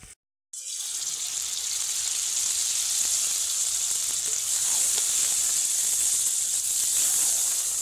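Boiled, watery dal poured into hot tempered masala for egg tadka bursts into a loud, sustained hiss and sizzle after a brief silence, steady and close for several seconds.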